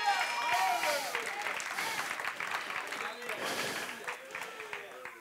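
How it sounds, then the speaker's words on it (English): A church congregation claps in praise, brisk, uneven applause spreading through the room and slowly thinning, with scattered voices calling out over it. "Give God a hand clap of praise"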